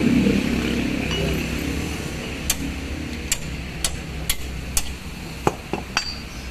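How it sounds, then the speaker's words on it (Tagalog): Sharp metallic hammer knocks ring out one after another at an irregular pace, about eight strikes over a low steady background hum, during brake pad replacement on a Mitsubishi Pajero. "Ito pala yung gamit natin na martilyo."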